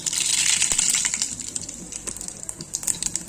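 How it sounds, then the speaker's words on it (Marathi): Mustard seeds hit hot oil in a pan for a white brinjal curry, a bright sizzle with rapid crackling and popping that is loud at first and then thins to scattered sputters, with no talk. "छानपैकी तेल तापलेलं आहे मोहरी घालूयात"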